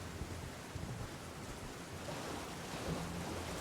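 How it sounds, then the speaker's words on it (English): Rain pours steadily with distant thunder rumbling low beneath it during a dark storm in the video game Elden Ring Shadow of the Erdtree, all faint and continuous with no talking. "The weather's terrible. When it rains, it pours."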